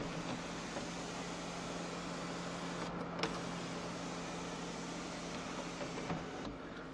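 The sunroof of a used Honda Accord 2.4 EX-L opens and closes with a steady electric motor whir inside the car, broken only by a faint click midway. The whir is even and continuous, with no grinding or rattling.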